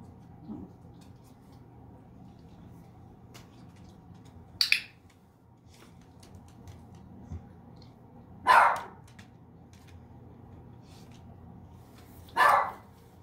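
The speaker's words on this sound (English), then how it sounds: "It's okay. Baba, it's okay. Gia's just barking." A dog gives three sharp, isolated barks spaced several seconds apart, close and loud, against a quiet indoor background.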